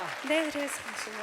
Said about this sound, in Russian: И эти аплодисменты тоже для тебя.